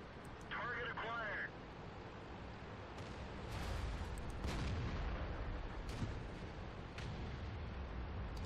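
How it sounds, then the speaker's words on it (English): In World of Tanks, playing the FCM 50t on the Pearl River map, several sharp artillery blasts and booms go off at intervals, fairly faint, under and around a player's talk. "the artillery is right there, and he's going to be aiming right at me"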